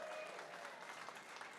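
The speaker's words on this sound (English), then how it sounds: "Would you give all them a big round of applause?" Applause from a crowd at an art auction event, a continuous patter of many hands that sounds distant and quite faint, steady throughout with no talking.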